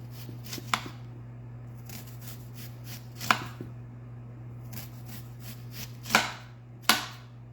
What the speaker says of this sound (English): There's several ways you can cut onions.